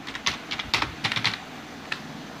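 Quick bursts of typing on a computer keyboard while entering mailing addresses into a document, with irregular clusters of key clicks and a few isolated taps, close and fairly quiet with no talking.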